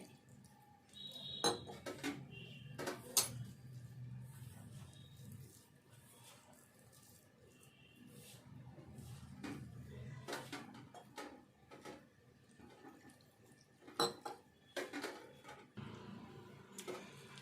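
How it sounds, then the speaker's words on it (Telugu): Chili bajji batter being stirred by hand with small splashes of water in a bowl, giving soft wet slaps and scraping, with sharp clinks of utensils against the bowl coming in irregular bursts, close and quiet. "ఇదంతా కలుపుకున్నాక కొంచెం కొంచెం వాటర్ వేసుకుంటే కలుపుకోవాలి"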